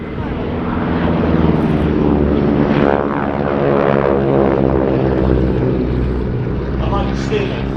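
North American Harvard propeller training aircraft flying at an airshow, a loud continuous droning engine roar with rising and falling pitch as it passes, with a commentator talking over it.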